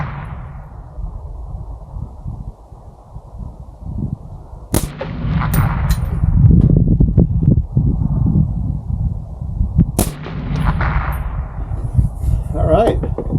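A suppressed Ruger SFAR rifle fires two sharp shots several seconds apart, each a sudden crack followed by a dull lingering tail, with rumbling outdoor background between them.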